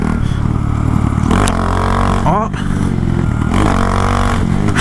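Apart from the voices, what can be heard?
Honda Grom motorcycle engine accelerating in second gear, 17T sprocket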